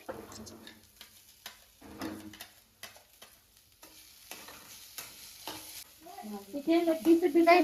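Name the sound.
mixing grated coconut filling in a pan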